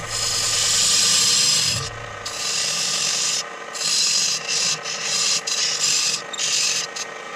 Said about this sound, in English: I'm parting it with a tenon already on it.